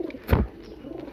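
Pigeons at a bird seller's place in Cilacap give a single close, deep coo with a breathy swell, over faint background murmur from the flock.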